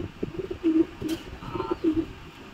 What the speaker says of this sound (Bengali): কবুতরগুলো খুব ছোট